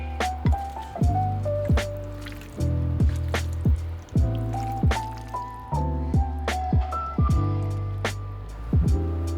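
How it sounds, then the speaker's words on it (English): Roasted vegetables are mashed in a small bowl, giving soft wet squishes and drips that repeat in a loose rhythm, each press followed by a brief squelch, close and fairly quiet. "add them to a small bowl and mash them up"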